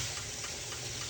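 Tap water runs steadily while fresh rosemary is being washed, a constant close rush of water with no talking.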